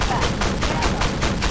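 Repeated tank cannon fire from AP rounds in the armored combat game Armored Warfare, loud broadband blasts roughly every third of a second in a dense, steady volley with no pauses.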